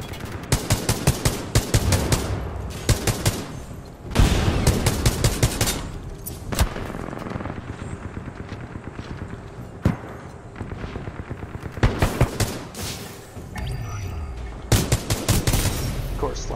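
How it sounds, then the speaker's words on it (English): Mastiff shotgun fire in the Live Fire mode of a first-person shooter, heavy blasts in rapid irregular bursts and volleys, loud and close, with gaps of quieter ambience between them. "No, he just shoots me and kills me instantly. He's got a Mastiff."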